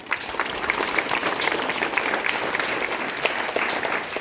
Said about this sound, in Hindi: ताली बजाइए उनके लिए।